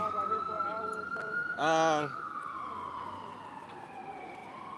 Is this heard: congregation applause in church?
no